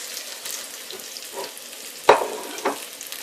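Sliced eggplant frying in golden onions in a pan for a tamarind vegetable sauce: a gentle steady sizzle with a sharp clatter of the pieces dropping in, then a smaller knock.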